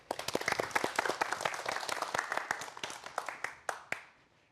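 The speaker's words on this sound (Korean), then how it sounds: "박수 부탁드립니다" An audience in a lecture hall claps for a physics professor about to give a talk on quantum mechanics, crisp individual claps building into brisk applause that thins out and tapers off toward the end.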